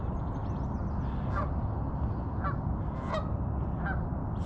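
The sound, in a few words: goose honking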